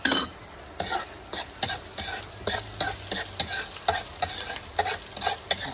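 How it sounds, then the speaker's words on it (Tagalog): Ginger sautéing in hot oil while cooking kinunot na bangus, a continuous crackling sizzle broken by frequent scraping and clinking strokes of a ladle stirring in the pan, no talking. "isa-gisa lang natin siya."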